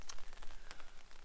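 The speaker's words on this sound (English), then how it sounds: "Literally out of nowhere, it just started raining." Sudden rain patters on a tent during an overnight hike in the Australian bush, with close, irregular drops tapping at quiet to moderate loudness and no voices.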